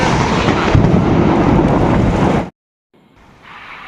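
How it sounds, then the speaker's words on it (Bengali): Thunder during a rainstorm, a loud, broad rumble mixed with rain that holds for a couple of seconds, then cuts off to near silence before the rain returns faintly. "সেই সাথে সাথে ঝড় আর বজ্রপাত হচ্ছে।"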